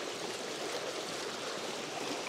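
A fast snow-melt creek rushes past a portable WaterLily turbine, making a dense, even roar of flowing water that holds steady from start to finish with no voices.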